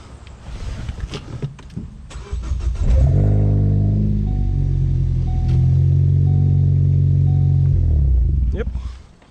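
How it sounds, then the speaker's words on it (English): A Ford Focus ST fitted with a Split Second unit cranks briefly after some clicks and handling noises, then catches and settles into a loud, close, steady idle that holds until it cuts off at the end. "Only thing I'm gonna do right now is just start the car up"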